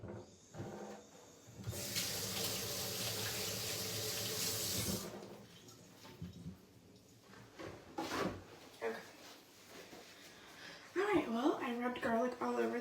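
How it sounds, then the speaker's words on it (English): Kitchen tap runs in a steady gush for a few seconds as hands are rinsed, then stops, followed by light clatter and a person speaking nearby. "Let me rinse my hands off."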